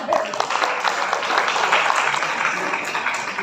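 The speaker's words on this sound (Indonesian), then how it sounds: "tepuk tangan untuk kita semua" An audience at a disability community event in Rembang claps continuously, a dense crowd applause that fills the room with a voice heard faintly under it.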